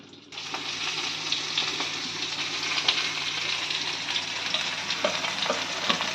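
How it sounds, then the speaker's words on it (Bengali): Eggplant slices frying in hot oil in a pan, a steady, close sizzle with scattered crackles and pops running throughout, no voices. "আমাদের এদিকে বেগুনগুলো ভাজা হয়ে গেছে"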